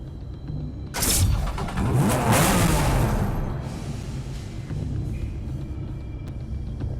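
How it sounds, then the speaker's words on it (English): Porsche 911 GT2 RS with a water-cooled six-cylinder bi-turbo boxer engine in the Need for Speed Hot Pursuit game, giving a sudden loud rev that surges for a few seconds and then settles into a steady, lower rumble. "The water-cooled 6-cylinder bi-turbo Boxster engine with 4-valve technology"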